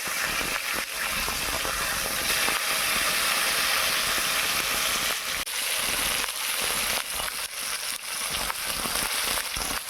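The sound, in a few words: rohu fish frying in oil in a pan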